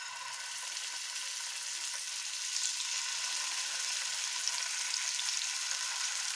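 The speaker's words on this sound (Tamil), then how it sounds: "இப்போ மத்தி மீன் ஒவ்வொன்றா பொரிக்க ஆரம்பிச்சிடலாம்." Sardines (mathi fish) fry in oil on a flat dosa pan with a steady, bright sizzle that holds close and even throughout, growing slightly louder partway.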